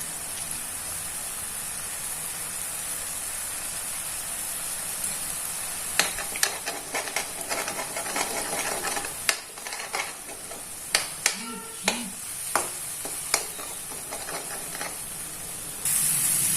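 Eggs sizzle and are stirred in a hot frying pan for an aval egg upma, a steady frying hiss under repeated scraping taps of a spatula against the pan, with no talking.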